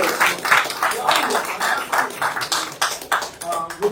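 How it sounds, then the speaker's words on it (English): Audience at a council meeting applauds with a scattered, irregular patter of hand claps of moderate loudness, with faint voices mixed in. "And so let's give Phil a round of applause."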